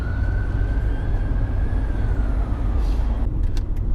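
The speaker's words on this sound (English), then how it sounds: "And there's an ambulance." An ambulance siren sounds on a road, a steady wailing tone held above a loud, continuous rumble of traffic and engine noise.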